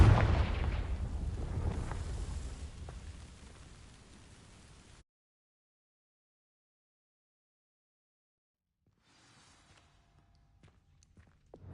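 A Confringo fire spell bursting against dry vines in Hogwarts Legacy: a loud, booming blast with crackling flame that fades over several seconds, then silence, then a faint rustle near the end.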